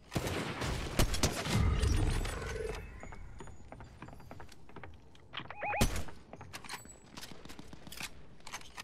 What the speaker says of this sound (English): There's another guy shooting at him too.